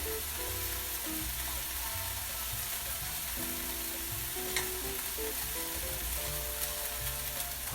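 Spaghetti squash fries in a pan, a steady close sizzle with light crackling and occasional stirring, heard alone.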